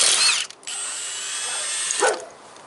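An impact or power tool zips in a short burst loosening lug nuts on a pickup's front wheel, then drops to a low whir before a brief ratcheting rattle near the end.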